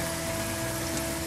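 Pasta cooking water pours steadily into broccoli in a pan, a constant close gushing wash with no pauses.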